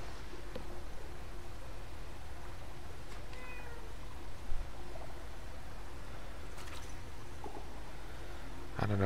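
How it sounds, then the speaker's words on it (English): A cat meows several times, the calls faint and scattered over a steady low background hum, with no talking. "don't know if anyone heard the cat just now"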